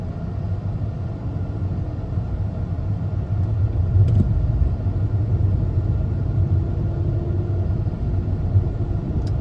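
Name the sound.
Jeep XJ driving and shifting gears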